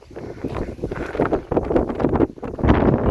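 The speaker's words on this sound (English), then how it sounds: "But the wind, I'm telling you, it's powerful." Strong, powerful wind buffets the microphone at the cliffs of Matera, Italy's cave city, in loud, continuous gusty rumbles that rise and fall.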